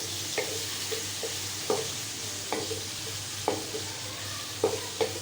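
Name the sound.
frying chicken with ginger and garlic in a pan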